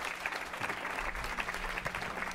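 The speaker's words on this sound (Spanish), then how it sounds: "Aplausos para ella." Audience applause for a singer introduced at an evening music program, steady dense clapping from a crowd filling the whole stretch at moderate loudness.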